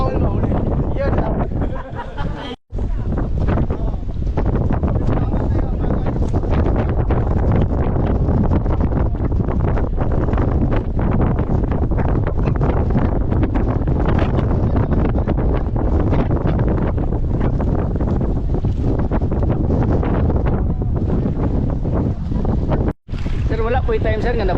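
Strong wind at sea off Camiguin Island roars into the microphone in constant heavy buffeting, with a couple of brief dropouts and faint voices under the rumble.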